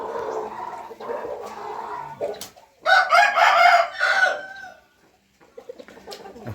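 A fighting rooster raised on a Thai farm clucks and calls close by, then lets out one loud, strained crow, followed by a pause and a few softer clucks.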